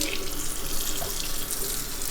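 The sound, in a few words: rinsing pork legs under running tap water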